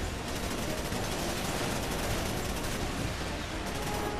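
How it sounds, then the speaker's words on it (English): Sustained blind gunfire in Resident Evil 6, a dense, loud, unbroken burst of rapid shots filling the whole stretch with no pauses. "Blind fire."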